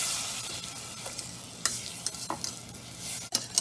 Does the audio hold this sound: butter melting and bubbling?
yes